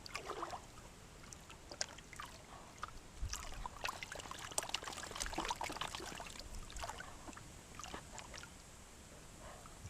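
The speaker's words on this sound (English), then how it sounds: "Agitating and then washing." A gold pan being swirled and rinsed in water in the evening, producing faint, irregular sloshing, splashing and trickling with occasional soft gritty clicks of gravel, quiet and continuous.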